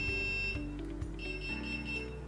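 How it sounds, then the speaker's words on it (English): Skylight shade motor emitting a faint, steady electronic beep tone during remote pairing, with the motor button held down, heard quietly over low background hum. "press and hold the button on top of the motor until it begins to beep"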